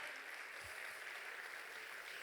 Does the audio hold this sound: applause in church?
yes